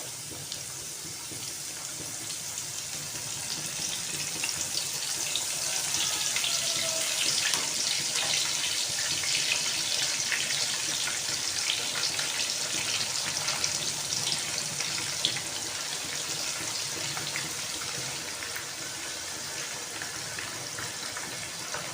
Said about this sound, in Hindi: सारी फ़िश हमने कुकिंग ऑयल के अंदर शामिल कर दी है